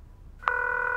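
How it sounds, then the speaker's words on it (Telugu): A phone ringing in a scene, a single sustained electronic ring tone starting partway through and holding steady, close and clear. "ఫోన్ రింగ్ అవుతుంది."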